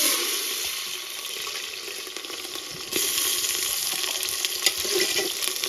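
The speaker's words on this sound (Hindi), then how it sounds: "अभी यहाँ से हम फ्राई कर रहे हैं प्याज" Chopped onions frying in oil in a pan after quince apples were fried in it, a steady close sizzle and crackle that grows slightly louder midway, with scattered pops and no talking.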